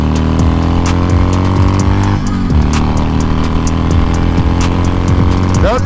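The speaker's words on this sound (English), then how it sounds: "That's full throttle, but that's not what this bike is made for." Harley-Davidson Iron 883 Sportster, a 2020 model, running at full throttle on the road, its engine a loud, steady harmonic drone with rising pitch sweeps, close and continuous, with a burst of rushing noise toward the end.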